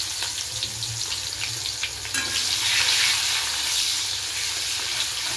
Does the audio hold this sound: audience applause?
no